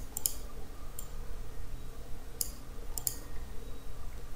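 Computer mouse clicks come in a sparse pattern, about five sharp, light taps spread unevenly over a few seconds, close and quiet against a faint room hiss.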